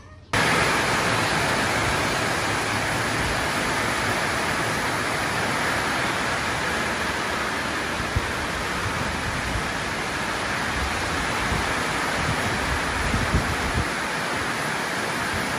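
A sudden heavy rain downpour beating down steadily outdoors, a dense, even hiss of pouring water that starts abruptly and continues loud and unbroken for about fifteen seconds, with no talking.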